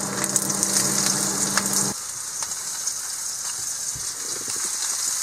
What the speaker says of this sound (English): a little bacon, a little sausage, and fry it up